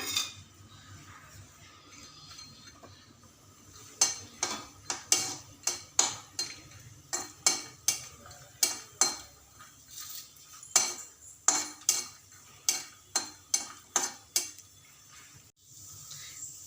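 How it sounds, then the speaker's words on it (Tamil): Cashew nuts fry in hot ghee in a pan for Tanjore Ashoka sweet while a spoon stirs them, giving a steady run of sharp metallic clinks and scrapes against the vessel over a soft background hiss, with no talking. "இப்போ நான் இதில் முந்திரி பருப்பு ஆட் பண்ணுறேன். கேஷ்நட் நல்லா ப்ரௌனாக ஃப்ரை பண்ணுங்கள்."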